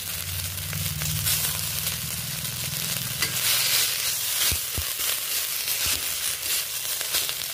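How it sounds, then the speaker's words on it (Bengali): Neem leaves dry-fry in a hot, oil-free pan while being stirred, giving a continuous crackling sizzle with scraping stir strokes, close and fairly loud, with a low hum fading out early. "এখন শুকনো খোলায় আমি নিম পাতাগুলো আগে খানিকটা ভেজে নেব"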